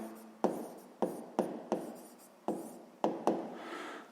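Pen strokes writing out a sixth-grade math exercise on paper, a series of about eight short scratchy taps and scribbles in an irregular rhythm, close and quiet, with no talk.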